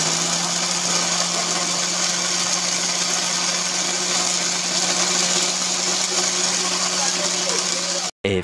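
A kitchen mixer grinder grinds boiled rice with a steady, loud motor hum and whirring blades throughout. It cuts out abruptly near the end.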